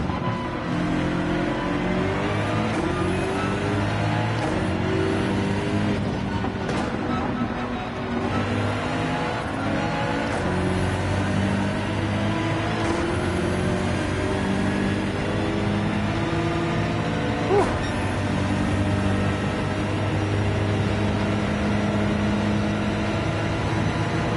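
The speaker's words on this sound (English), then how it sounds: "Oh, we are a lot of cars here," A pack of race cars in Gran Turismo 7 roar together in a GR.3 race, engines droning loudly and continuously with overlapping revs and gear-shift pitch sweeps from many cars close by.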